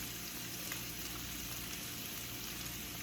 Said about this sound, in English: So add the rest of the oil, and I start with the onions.